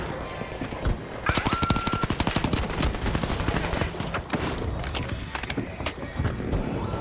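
Rapid bursts of gunfire from a gun in a video game crackle loud and close, with steady automatic shots running through most of the stretch.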